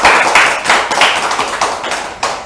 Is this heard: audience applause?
yes